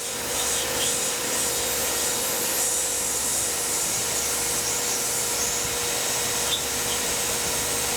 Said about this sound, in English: Pre-drilling here just to keep these radii tight on the profile.